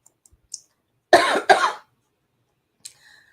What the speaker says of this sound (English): I've got a little bit of a cough today.